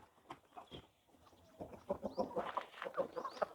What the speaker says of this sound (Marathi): हे कोंबडे आहेत.